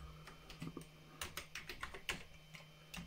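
Keystrokes on a computer keyboard while a command is entered on a Raspberry Pi setup, irregular clicks and taps in quick bursts over a steady low hum, close and fairly quiet.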